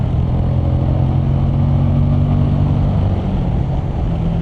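A 2020 Suzuki V-Strom 1050XT motorcycle engine revs loud and close, holding a steady, rough drone with rising harmonic sweeps throughout and no one talking.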